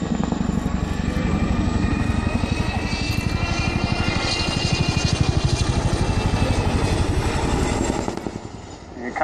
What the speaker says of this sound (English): The Chinook wing forms the heavy lift element of the Joint Helicopter Command